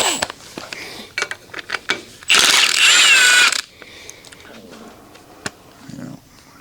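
Ratchet wrench turning a 9/16 crank bolt on a 1983 K10 350 V8 during engine teardown, a loud dense ratcheting burst lasting about a second amid scattered clicks and clanks, with voices nearby.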